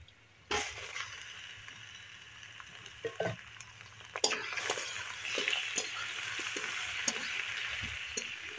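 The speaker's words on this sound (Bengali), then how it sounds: "আর এখন হচ্ছে হালকা করে নুন দিয়ে দিই, ভালো করে ভাজবো" Monitor lizard meat cooked Santali tribal style, frying in a pan with salt: a steady sizzle starts abruptly and runs on, with occasional spatula scrapes and clinks, close and moderately loud, no voices.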